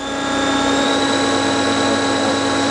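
A Fryer CNC vertical machining center with a 50-taper spindle and 60-inch X-axis travel, its spindle running at 3,000 RPM, gives a loud, steady, tonal machine whine with a constant hum underneath. The whine holds even throughout, with no talking.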